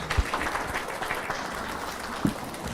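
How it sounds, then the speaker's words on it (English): An audience standing to clap after a speech by a visiting dignitary at a community gathering in Swindon, UK, heard as a steady, diffuse wash of applause at moderate, fairly distant volume. "Can we all stand up and give His Excellency a clap offering?"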